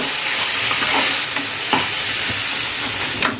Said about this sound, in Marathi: आणि लगेच आपण यामध्ये टॅमॅटो घालून घेऊया टॅमॅटो पण चांगले फ्राय करून घेऊया